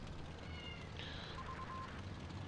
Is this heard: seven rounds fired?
no